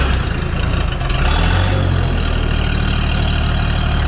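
A small Oliver 1600 farm tractor idles close by, its low diesel rumble steady and throbbing, with a brief rougher moment near the start before it settles into an even chug.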